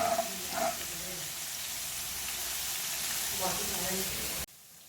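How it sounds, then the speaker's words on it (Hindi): Hiss of something frying in a pan during chicken slider preparation, a steady broadband sizzle lasting several seconds with faint voice-like tones, cutting off abruptly near the end. "सिर्फ इसको 1 मिनट के लिए फ्राई करेंगे ताकि ये ज़्यादा जल ना जाए।"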